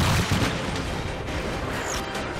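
Civil War reenactors staging the Battle of South Mountain fire a rifle volley: a loud, dense roar of gunfire fills the whole stretch without letting up, with no single crack standing out.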